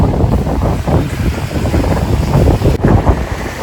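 Cool wind buffets the microphone outdoors at night near a cable car on Phu Quoc, making a steady, loud rumbling roar with gusty swells and no speech.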